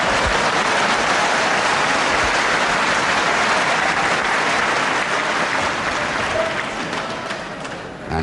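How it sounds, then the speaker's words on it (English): Packed crowd at a wrestling show in De Montfort Hall, Leicester, applauding in a dense, steady wash of clapping that fills the hall and fades slightly toward the end, with no talk. "applauded by the packed to capacity crowd here at this wonderful De Montfort Hall in Leicester"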